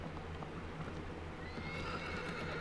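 A horse whinnies in Shadow of the Colossus, a loud, drawn-out neigh with hoof clip-clops beneath it, set over a steady low hum of game ambience.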